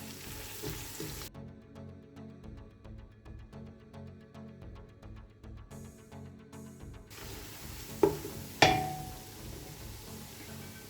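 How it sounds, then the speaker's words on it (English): Crayfish frying briefly in hot oil for Nigerian okra soup, a steady close sizzle running throughout with light stirring scrapes and two sharper clatters near the end. "For my crayfish, I'm going to fry it for not more than 20 to 25 seconds."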